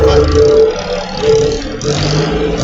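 A car engine hums and revs close by, rising and falling in short pulses with a steady tone running through it.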